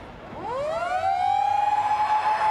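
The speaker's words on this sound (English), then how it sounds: "The siren is gone at Carrara." Full-time siren at Carrara stadium ending a 1997 rugby league match, a loud wailing tone that rises sharply and then holds a steady pitch, heard alone with faint crowd noise beneath.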